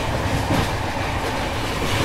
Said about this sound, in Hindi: गाड़ी बहुत तेज भाग रही है